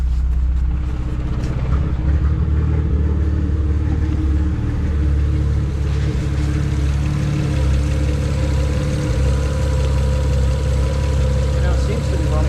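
A BMW 135i engine idles steadily with an even, throbbing rumble throughout, with no pauses and no revving.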